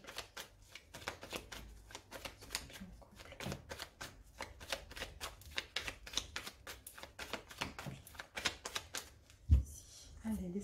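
Tarot and oracle cards being shuffled by hand, a dense run of quick riffling flicks and soft slaps repeating steadily and close, with a louder thump near the end.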